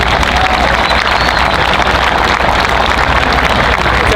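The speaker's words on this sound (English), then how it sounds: "Let's have another round of applause for the Congressman, Bill Pasquarello." Audience applause at a ribbon cutting ceremony for Hinchliffe Stadium, a dense, continuous patter of clapping from a large crowd, loud and steady throughout with no clear voices.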